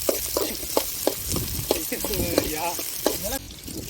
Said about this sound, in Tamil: ஓட்டிக்க வெங்காயத்தை நல்லா வதக்கவும்